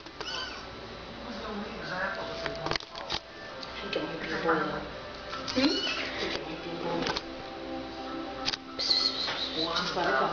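A cat meows several times, short high cries scattered through the clip, close by and mixed with people talking and light shuffling noises.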